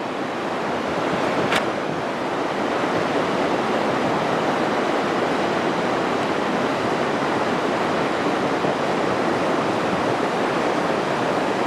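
Rushing water of the rain-swollen San Gabriel River roars steadily and loudly, a dense continuous broadband wash with no pauses or talking.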